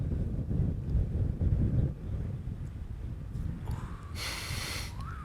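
Wind gusts across an outdoor disc golf course during a charity tournament in Waco, a low, rumbling buffet against the microphone that eases partway through, followed by a brief higher hiss near the end.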